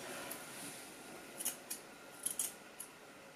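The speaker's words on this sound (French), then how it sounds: "Je vais essayer de faire un bail avec le ciseau à désépaissir." Thinning scissors snip through hair during a self-haircut at home, a few faint, crisp metallic clicks close by against quiet room hiss, with no talking.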